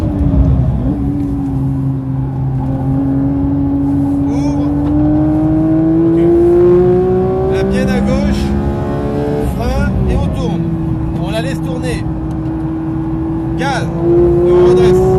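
A Porsche 992 GT3 accelerates hard around the Dijon-Prenois circuit, its engine note climbing steadily through the gears with a brief shift dip midway, loud and close from inside the car, with an instructor talking over it.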